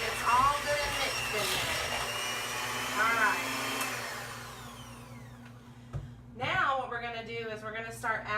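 An electric hand mixer whirs steadily as it beats cream cheese and butter together for frosting, a continuous motor hum under nearby talking that drops away briefly before voices pick up again.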